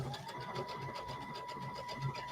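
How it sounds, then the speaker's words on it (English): A sewing machine stitches along a stem in a steady, fast, even rhythm of quiet repeating clicks and whirs, heard alone at low volume. "I'm just going to let the machine sew."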